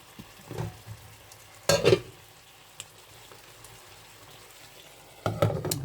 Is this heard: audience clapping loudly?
no